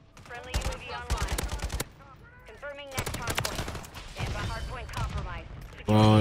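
Gunfire in Call of Duty Modern Warfare 3 with a Kastov 762 AK47: loud rapid automatic bursts in several sharp volleys with short gaps, close and heavy, with a player talking over parts of it.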